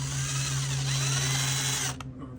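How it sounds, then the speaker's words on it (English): A power drill bores a hole for an outdoor wireless security camera mount, whining loudly and steadily close by for about two seconds before stopping abruptly. "I'm gonna just take my drill, put it on the center of the hole, and then drill it"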